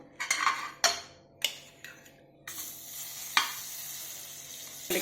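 Butter melts in a hot pan while paneer butter masala is being prepared, with a soft sizzle under sharp clinks and scrapes from a utensil, then a louder, steady frying hiss across the second half.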